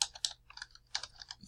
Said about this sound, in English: I type in the ordered pair y of A